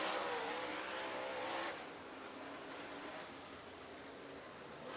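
Dirt track race cars roar through hot laps at North Georgia Speedway, a broad, steady engine drone that swells loud at first, then settles into a sustained, slightly distant rumble with no voices.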